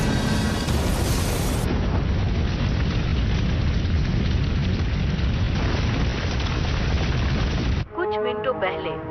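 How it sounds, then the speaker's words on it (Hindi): A gas pipeline explosion roars as a dense, continuous rumbling blast that cuts off abruptly, followed by a voice speaking. "गैस पाइपलाइन के फटने से बड़े धमाके सुनाई दिए"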